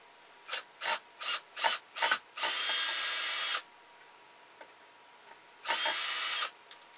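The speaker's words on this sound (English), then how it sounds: "we got to take the mouth out, and we got to sand a little bit more off on the bottom." Sanding the wooden mouth piece of a handmade ventriloquist dummy: five short rubbing strokes followed by two longer, loud abrasive passes with a pause between, close and alone.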